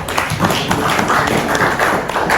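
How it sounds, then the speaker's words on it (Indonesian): Audience applause during a teacher performance assessment session, a continuous, fairly loud patter of many hands clapping for a couple of seconds with little talk over it. "Baik, tepuk tangan"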